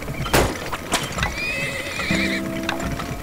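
Game horses from Turmoil, the oil-drilling strategy title, whinny sharply while hooves clip-clop steadily, a couple of loud neighs standing out over a busy backdrop with no talking.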